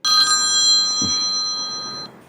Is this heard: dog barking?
no